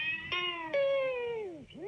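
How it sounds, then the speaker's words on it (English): Magnetic tape pulled by hand through a tape machine at uneven speed bends three twanging tones, with sudden pitch jumps and a long sliding glide downward and then back up, close and fairly loud, no voices. "If I wind this piece of tape through the machine by hand, at a speed which isn't constant"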